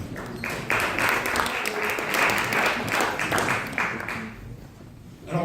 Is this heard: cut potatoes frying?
no